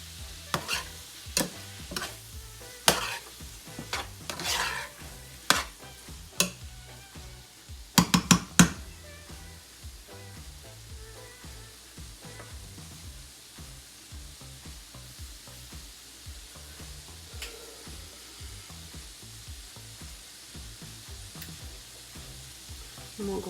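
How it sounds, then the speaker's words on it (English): Cheese melts in a pot as a spoon stirs it, sharp clanks and scrapes against the sides early on, then softer continuous stirring with a gentle sizzle, no voices. "So, just going to stir this around"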